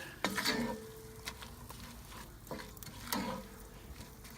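Hot Italian sausage stirred in a pan on a Pit Boss ceramic grill, with a few scraping clinks of a utensil against metal over a steady low sizzle, close and moderately quiet, no talking.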